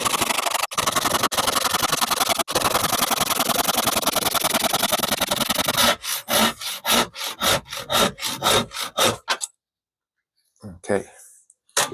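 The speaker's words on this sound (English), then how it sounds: "Sawing complete." Hand saw cutting through a wooden board for a birdhouse, a steady rapid rasping for several seconds, then slower separate strokes as the cut finishes, ending in silence with a faint voice.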